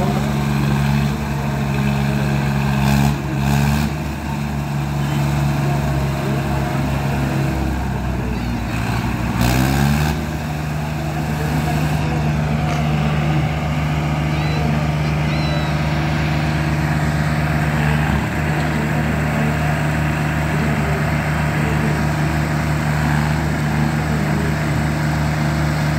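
Heavy engines of a New Holland 3630 Super and a Swaraj 744 FE tractor drone and labor steadily in a tug of war, loud and close, with brief knocks and a shift in pitch partway through.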